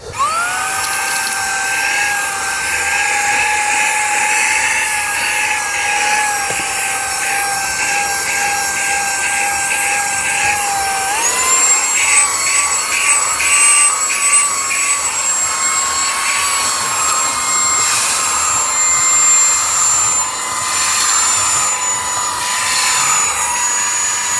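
A cordless 2-in-1 mini vacuum and blower at speed 2 runs over pebbles with a loud, steady high-pitched motor whine that jumps higher partway through, with gravelly rattle beneath and no speech.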